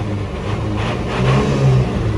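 A turbocharged 5.3 Yukon truck engine revs up close by, its low growl swelling and climbing in pitch over a couple of seconds.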